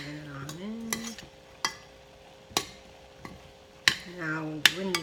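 Chipotle chili being stirred into enchilada sauce in a pot, with a handful of sharp spoon knocks and scrapes spaced through the stretch, and a voice speaking at the start and end.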